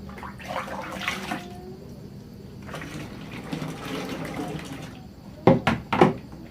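Water poured into a dish soap concentrate in a container, a continuous splashing gush that ends with a few louder sloshes near the close.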